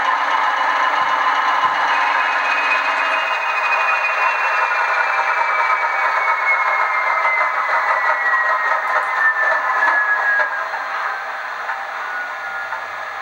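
A DCC model railway locomotive's sound decoder shuts down, a steady mechanical engine drone with a faint rattle and a slowly falling whine that winds down and softens toward the end, heard alone without talking.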